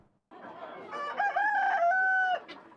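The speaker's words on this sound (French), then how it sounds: "Des poulets locaux aux poulets de chair, des pintades, des dindons et des cailles." At a poultry market selling local chickens, broilers, guinea fowl, turkeys and quail, a rooster crows once close and clear, a drawn-out call with some clucking around it.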